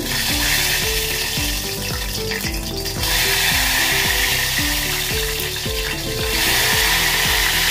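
Ghevar batter poured in thin streams into hot ghee crackles and hisses in a loud, vigorous sizzle that keeps going, with rapid bubbling bursts that swell as each pour hits the oil, and no talking.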